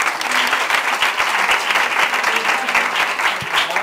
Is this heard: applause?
yes